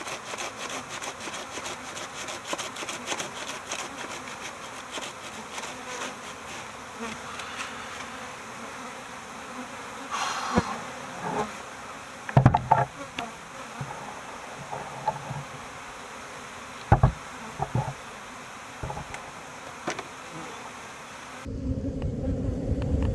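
Feral bees swarm during the removal of a hive from a giant cactus, a dense, steady buzzing drone throughout, broken by occasional knocks and scrapes from the work.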